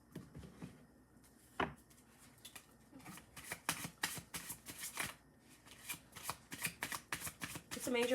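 Tarot cards are shuffled and pulled from the deck in quick, soft riffling bursts and slaps, close by, picking up pace toward the end.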